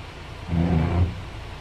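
A vehicle stuck on a steep mountain road in Ladakh revs its engine in one swelling, mid-pitched surge lasting about half a second before settling back to a steady idle, with no talk over it.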